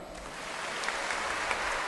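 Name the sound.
audience clapping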